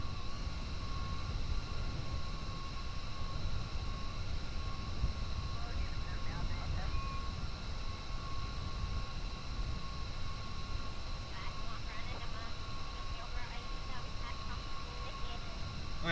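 An airplane in Kerbal Space Program rolls for takeoff, its engine a steady, continuous drone with a high whine running unbroken throughout, with faint talk at times.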